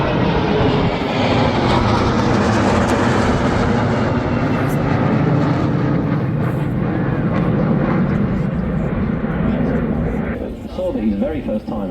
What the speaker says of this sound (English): The first Spartan arrived at 35 Squadron in 2015, and there are a fleet of 10 of these